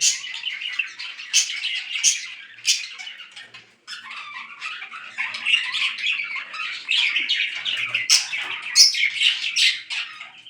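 Pet budgies and cockatiels in an indoor setup chirping and squawking together, a busy, close chorus of bright tweets and harsh calls that rises and falls without pause, with no talking.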